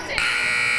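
End-of-quarter buzzer at a girls' high school basketball game between Berlin and Platt, a loud sustained electronic blare that starts abruptly and holds to the end, with crowd noise underneath.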